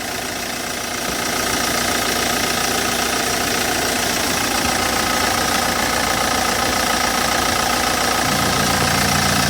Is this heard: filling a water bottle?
no